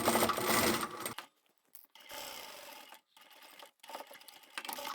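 A sewing machine backstitches the lining of a triangular zippered pyramid pouch: a loud stitching run that stops, then short bursts of stitching separated by brief silences, close and clear with no talk.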